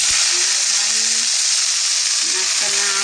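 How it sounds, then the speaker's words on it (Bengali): Leafy greens (shak) frying in a pan for a home lunch: a loud, constant close-up sizzle and hiss throughout, with faint murmured voice fragments beneath. "এই যে শাক ভাজা হচ্ছে"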